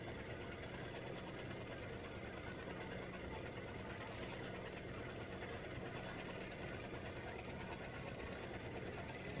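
An embroidery machine runs at a steady rapid hum and whir, stitching free-standing lace acorn earrings with satin stitching around the bottom edge. The drone is continuous and even and fairly faint.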